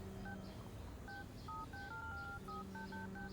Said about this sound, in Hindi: ये तो फोन पर क्या टिप टिप कर रही है?